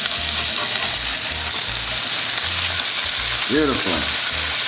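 Blackened red fish fries loudly in a pan with butter and lemons, a constant close hissing sizzle with bubbling spatter near the end and one brief spoken word.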